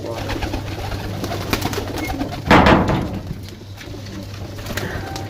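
Golden pigeons coo low and steadily, with a brief burst of fluttering or rustling partway through.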